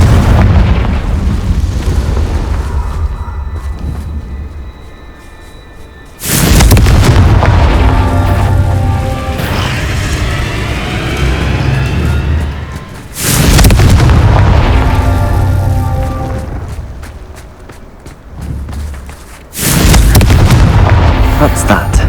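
Loud Confringo spell explosions go off in the Hogwarts Legacy video game. Four heavy booms arrive several seconds apart, each leaving a long rumbling tail over game combat noise.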